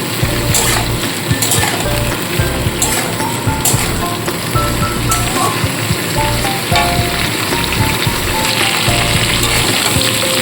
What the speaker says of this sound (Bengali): এই সমস্ত সবজি হালকাভাবে ভেজে নিয়ে